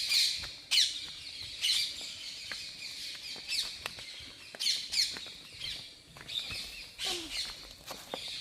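Sparrows chirp and tweet on a windy farm during a vegetable and fruit harvest. The calls come in a steady series of short, bright, high bursts, fairly near, with wind and rustling underneath.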